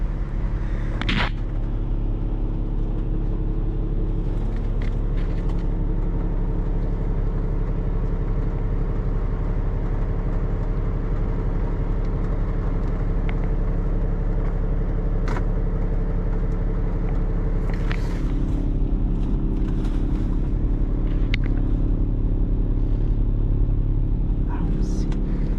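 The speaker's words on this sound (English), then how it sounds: "I think it's just because all these trucks are on." Several trucks idle nearby at a campsite in a residential area at night, a steady, loud low engine drone that continues throughout, with occasional knocks and voices talking over it.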